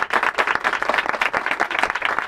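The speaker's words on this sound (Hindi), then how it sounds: "सारे ताली बजाओ एक बार।" Audience applause for a singer, dense steady clapping from a nearby crowd that continues throughout, loud and alone without speech.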